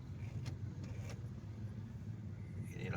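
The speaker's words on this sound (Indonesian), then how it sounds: "Setiap KB penuh dengan mobil dan sepeda motor." Dense night traffic of cars and motorcycles packs a busy city street, producing a steady, close, low rumble of engines with a few passing swells and no pauses.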